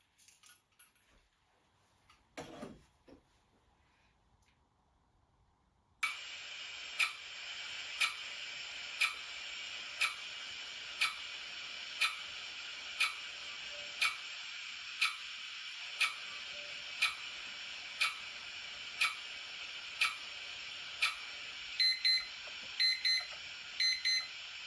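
A ticking timer begins after a few quiet seconds, then steady sharp ticks repeat at an even pace of about one per second for the rest, with a brief jangle near the end.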